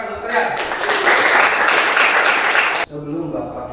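A classroom of students applauding: a dense, loud wash of clapping that swells, holds for about two seconds and cuts off abruptly, with voices heard just before and after it.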